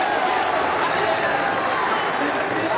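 Crowd at a VALORANT esports semifinal arena cheers and roars steadily, a dense, sustained wash of noise with a commentator's voice likely mixed in.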